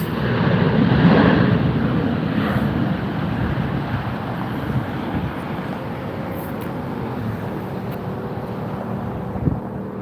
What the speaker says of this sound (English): Delta flight. Reversing thrust.